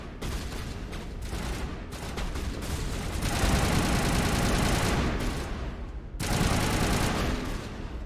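Sustained gunfire from a bartender in the video game Mass Effect, loud dense bursts of shots running nearly continuously, swelling heavier midway with brief dips, no voices.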